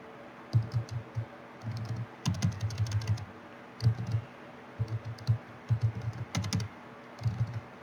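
Computer keyboard typing of login details, in quick bursts of keystrokes separated by short pauses, close and clear with no talking.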